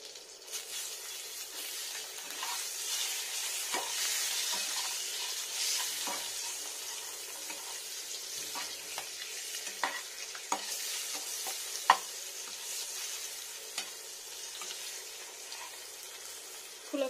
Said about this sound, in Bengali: এটা ভাজবো সুন্দর করে, পুরোটা সুন্দর করে যাতে ফুলে ফুলে ভাজে